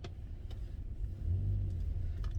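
Car engine rumbling past on a road, a low deep drone that swells louder in the second half, fairly close with light background noise.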